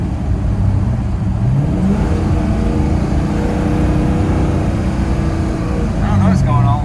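A Chevrolet El Camino engine idles and revs steadily in winter cold, running rough and in need of a tune, with a faint leak hiss; the engine note is loud and continuous throughout, with a speaking voice partly over it.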